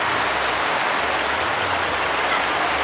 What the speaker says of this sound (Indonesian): Ini hujan dulu, jadi karena atasnya plastik sehingga ada suara yang cukup keras.